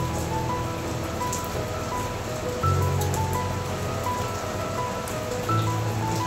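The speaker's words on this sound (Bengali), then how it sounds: "মানে কন্টিনিউয়াসলি বৃষ্টি হয়ে যাচ্ছে, তার সাথে মেঘও ডাকছে" Heavy, continuous rain pours down steadily, a dense unbroken wash of drops on surfaces with no voices, loud and close throughout.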